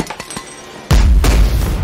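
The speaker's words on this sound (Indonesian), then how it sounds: "Sean diserang dengan flashbang." A flashbang grenade goes off in a film action scene, a sudden loud boom that cuts over softer clicks and knocks and leaves a heavy, rumbling blast that rings on to the end.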